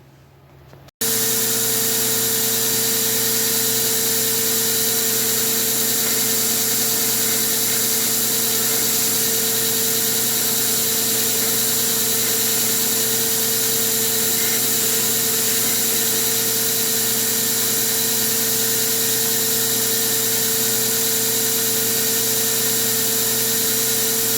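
A bench grinder shaping knife handles runs with a steady, loud tonal whine and broad grinding hiss throughout, starting abruptly after a brief quiet moment and holding an even drone with no talking.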